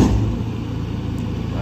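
A JCB 3DX backhoe's diesel engine labours under load while pulling a stuck tractor out of mud, a loud, steady low throbbing drone held close up for the whole moment.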